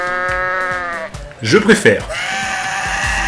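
A goat in the video game Goat Simulator gives a loud, wavering bleat in the middle, set between stretches of tonal game music, with someone speaking French briefly around it.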